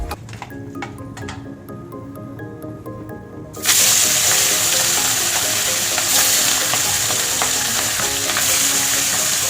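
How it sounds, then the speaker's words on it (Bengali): Salt-rubbed fish heads frying in oil: a lighter crackle at first, then the sizzle jumps to a loud, dense, continuous hiss close by. "মাছের মাথাগুলো ভাজবো"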